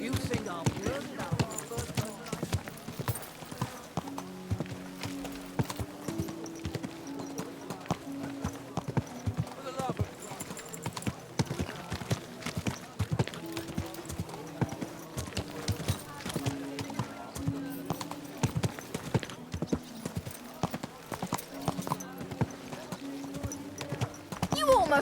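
Horse hooves clip-clopping in the medieval video game Kingdom Come: Deliverance 2, a steady close trotting rhythm that runs the whole stretch, with characters' voices talking over it at times.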